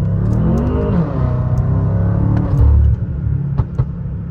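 V8 engine of a BMW M5 F10 revs from inside the cabin, a deep, loud rumble that rises in pitch, swells, then settles back with a few faint clicks.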